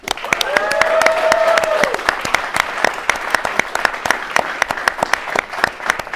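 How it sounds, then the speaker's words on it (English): A live audience applauds a game-winning team at a Trials of Osiris reveal event, with loud sharp claps and cheering that settle into scattered, distinct claps. "Let's have a final round of applause for our game-winning team today."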